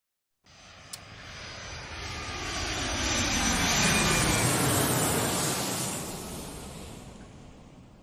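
A fixed-wing airplane taking off: a broad engine roar rises from nothing, swells to a loud peak in the middle and then fades slowly as the aircraft recedes. No voices are heard.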